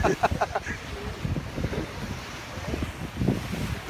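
Wind gusts across the deck of a sailing yacht at sea off Montauk in cold weather, roaring and buffeting the microphone steadily throughout, with faint sounds of water beneath.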